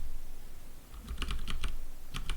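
Quick bursts of keyboard typing during a computer roguelike game, a handful of crisp key clicks in short clusters, close and fairly quiet over faint room hiss, with no talking.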